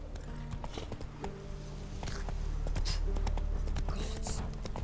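Roach the horse trots through The Witcher 3 with a steady clip-clop of hooves at moderate distance, set in a continuous in-game ambience.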